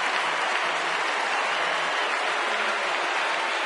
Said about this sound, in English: And the Philly fans, who've been pretty bored for an hour and a half, have something to cheer about.